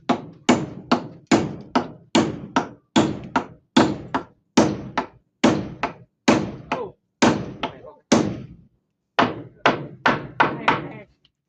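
A hammer driven by hand into nails during volunteer repair of a house with a crooked, warped structure: about twenty loud, close, sharp blows in a steady rhythm, with one short pause near the end.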